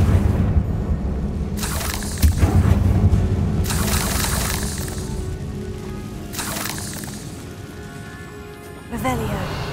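A Confringo blasting spell explosion in Hogwarts Legacy, heard as loud bursts and crackling blasts against a low rumbling game background, followed by a later sharp impact, with a voice speaking at times.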